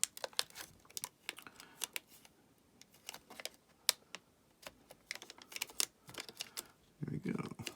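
Paper is folded by hand into a traditional origami crane, making a run of quick, crisp crinkles and taps at close range, with a brief rougher rustle near the end.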